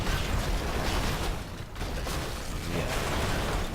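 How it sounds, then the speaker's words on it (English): Rocket blast in the Red Faction Guerrilla video game, a loud broad roaring rumble of explosion and collapsing debris that surges, briefly dips, then swells again, filling the whole stretch without speech. "The other thing to test, of course, is the rocket explosion."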